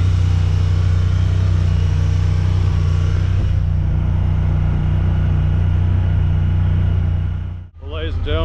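A Honda Talon side-by-side driving on mountain trails, a steady loud engine drone with low rumble close up, holding constant before briefly cutting out near the end.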